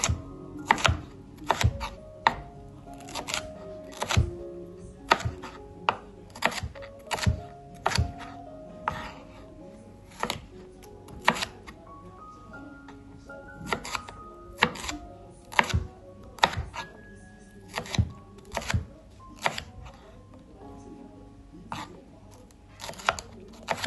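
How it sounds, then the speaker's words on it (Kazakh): A knife cuts bell pepper into long strips on a cutting board for a broccoli and cucumber salad, giving sharp, close, irregular knocks of the blade against the board, with calm talk and soft background music underneath. "Екеуін жарты-жартыдан алдым. Өйткені менде шағын ғана салат, сол үшін жарты-жарты бөліктен алып, осылай бұны да ұзынша етіп турап алдым."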